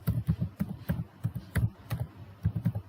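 Fast typing on a computer keyboard, a quick run of clicky keystrokes in short bursts that sit close to the mic, with brief pauses between them and no talk.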